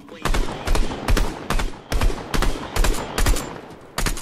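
Rapid bursts of Fortnite gunfire crack out in a steady rhythm of about ten loud, sharp shots, close and punchy, with game ambience between the reports and a voice faintly underneath.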